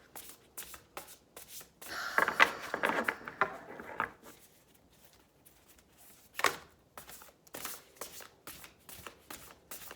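Oracle cards are shuffled by hand in irregular riffling bursts, with a dense flurry early on, then scattered softer taps and slides at close range.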